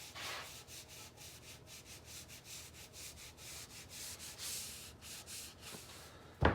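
A rag wipes Odie's Oil onto a wooden table in soft, repeated rubbing strokes, close but quiet and steady, with a faint bump at the very end and no talking.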